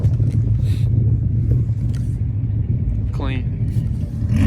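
Rumbling engine of a white Cadillac CTS-V at a car meet, a low, steady idle growl with brief revving swells, close by, as several people talk over it.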